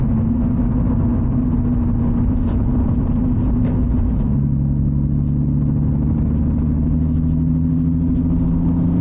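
A turbocharged VR6 MK5 Golf R32 with a DQ500 gearbox cruises at light throttle, a steady low engine drone with humming tones that shift to a new pitch partway through, heard from inside the car with no talking.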